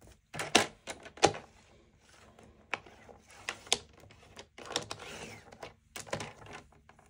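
A paper trimmer blade is drawn across a sheet of paper being cut to 9 inches while crafting a mini album, giving sharp, close swishes and clacks in an irregular series with quieter handling between.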